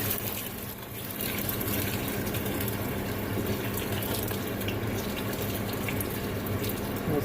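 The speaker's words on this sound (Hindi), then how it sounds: "इसमें हम 2 लीटर पानी डालेंगे, 2 लीटर यखनी के लिए।" Two litres of water pour steadily into a cooking pot for biryani stock, a continuous loud gushing stream that runs unbroken from start to finish with no talk.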